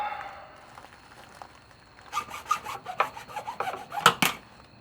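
A sump pump pipe being cut by hand with a saw: after a quiet start, a run of rough rasping strokes comes in irregular rhythm, close and fairly loud, with no talking.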